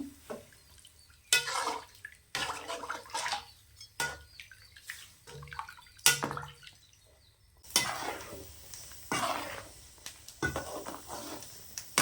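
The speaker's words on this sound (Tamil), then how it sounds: "இப்போ தண்ணி சேர்த்துக்கலாம் நல்லா வேகணும் இருபது நிமிஷம் வேகணும்" Water poured into a simmering pot of mutton curry, heard as a series of splashing, gurgling pours in short bursts separated by brief pauses, fairly close and alone with no talk.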